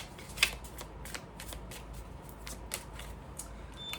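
A deck of tarot cards is shuffled close up, with a quick series of soft riffling flicks and snaps over a few seconds and one sharper slap near the start.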